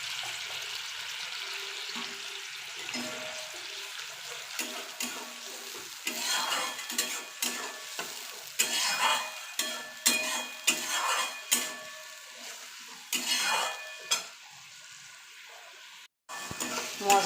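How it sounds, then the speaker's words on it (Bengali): Spice paste (masala) for a Bengali banana-flower ghonto with chana dal, frying in a pan and being stirred steadily; soft sizzle runs throughout, with repeated scraping strokes and a few pot clinks growing louder toward the end, no talking. "মশলাটা আমি ভালো করে কষিয়ে নিই"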